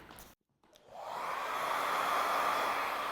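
A handheld hair dryer clicks on in a salon and quickly rises to a steady, close, loud whoosh blowing over hair, with no talking.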